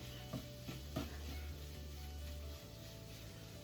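Scrambled tofu sizzles steadily in a pan on a stove set to medium heat, with a few soft stirring scrapes near the start, a continuous close frying hiss and no talking.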